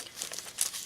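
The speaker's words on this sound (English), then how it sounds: "so I just kind of fold them up." A paper time card folded by hand for a hard cover journal, a brief close crinkle and crease of paper lasting under a second.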